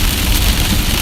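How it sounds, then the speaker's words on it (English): Heavy rain and hail pounding down during a tornado-warned storm in the DFW Metroplex, a loud continuous wash of dense noise close by with no pauses. "pretty impressive rain, hail, wind, and lightning right now"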